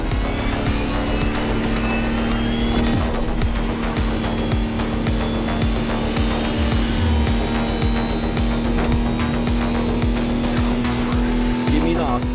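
Electric Lamborghini Terzo concept hypercar driving in The Crew Motorfest, a steady loud electric whine with a sustained tone under dense game noise, brief tire squeals mixed in throughout.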